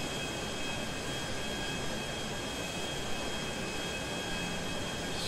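A jet plane in the video game GTA flies over the city, its engine a steady, loud broadband roar with a thin whine, constant and unbroken with no voices over it.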